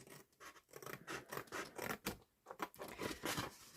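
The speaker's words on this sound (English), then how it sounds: "just snip that little part out" Close, quiet snips and scraping of scissors cutting paper for a mini album, several small irregular cuts in quick succession.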